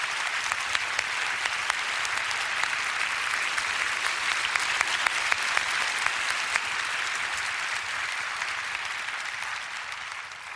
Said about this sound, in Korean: 위로와 격려의 박수를 부탁드립니다